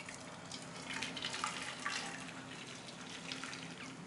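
Melted jaggery syrup is strained into a cooking vessel, making a faint, steady liquid trickle and splash that continues evenly for a few seconds.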